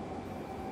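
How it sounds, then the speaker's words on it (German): A train passes in Train Simulator 2018 on the S3 line toward München Hbf, a brief low rumbling roll with steady rail hum, fairly quiet and heard alone. "Da fährt ein Zug."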